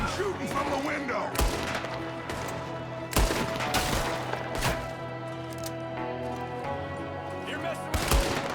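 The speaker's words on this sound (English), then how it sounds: "There's another one shooting from the window." Gunfire crackles during a Red Dead Redemption 2 shootout, with an enemy firing from a window; scattered sharp shots ring out at irregular intervals over a constant ambient background.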